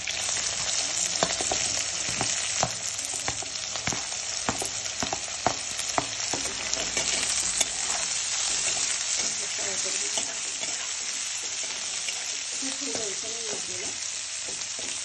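Garlic, chili and onion sizzle steadily in a hot pan for Hakka noodles, a dense crackling hiss with occasional stirring scrapes and ladle knocks, close and continuous without talk.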